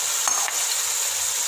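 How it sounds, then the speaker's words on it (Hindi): Chickpeas frying in masala in a pot, a short steady sizzle with a couple of faint stirring taps near the start. "अब हम चनों को मसाले में अच्छे तरीके से भून लेंगे।"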